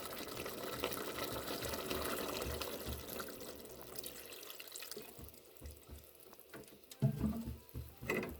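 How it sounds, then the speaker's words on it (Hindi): Water pours into a pot of browned mutton korma, a running splashing rush that gradually thins out and is followed by a couple of soft metallic clanks. "इसमें हम पानी डालेंगे"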